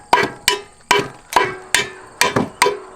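Seven sharp strikes of a hammer's claw on Versetta stone veneer, evenly spaced and close, each a bright crack with a short ringing decay, no voices.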